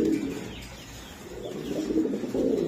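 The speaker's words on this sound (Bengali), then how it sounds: "এরকম ইম্পোর্টেড কবুতর ভাই" Imported pigeons, including giant homer and show king breeds offered for sale, coo in low, continuous, overlapping murmurs that swell and fade close by, with no talking.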